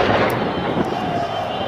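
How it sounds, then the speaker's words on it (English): A loud explosion during street protests in Cairo in January 2011 sends a harsh burst of noise into a dense, noisy street din, followed by a sustained rumble. "Well, Kamal, you just heard that loud explosion"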